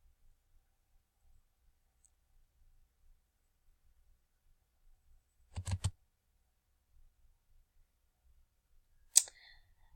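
Computer mouse clicks while navigating a social studies unit in Schoology: two brief, isolated clicks, one near the middle and one near the end, separated by long stretches of near silence.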